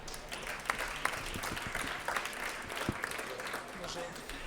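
An audience applauds at an environmental business awards ceremony as a company's founder is called to the stage, with steady, dense clapping spread across a hall and talk over it.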